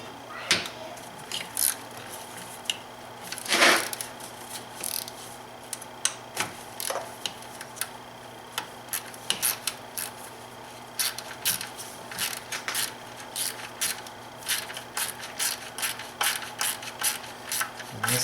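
A low-profile socket wrench with a swivel ratcheting an E8 E-Torx bolt on the valve cover of an N51/N52 BMW 3 or 5 Series engine, making faint, irregular clicking bursts against a quiet background.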